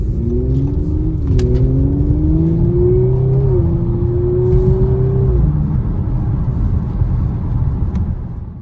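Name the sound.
2019 Audi RS5 driving and accelerating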